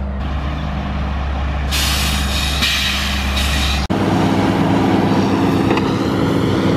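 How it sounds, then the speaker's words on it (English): A wood chip truck pulls in at a logging site on a farm being cleared, its heavy diesel rumbling steadily while loud bursts of air-brake hiss sound, then cut sharply to a lower idle. "We're working on the fourth chip truck coming back."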